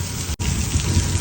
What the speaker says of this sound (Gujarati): કડાકા ભડાકા સાથે વરસાદ થયો છે ચાલુ